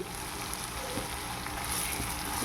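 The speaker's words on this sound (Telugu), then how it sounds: "ఇప్పుడు ఈ మసాలా గుమ్మగుమ్మలాడుతుంది అల్లం తెల్లగడ్డ వేగినాయి" Ginger and garlic masala frying in a pan, a steady close hiss and crackle of hot oil with soft bubbling that continues evenly throughout, with no voices.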